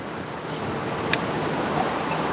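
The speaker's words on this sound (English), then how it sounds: "It is windy." Strong wind roars steadily across a microphone, a broad rushing noise like surf that stays loud throughout with small gusty swells.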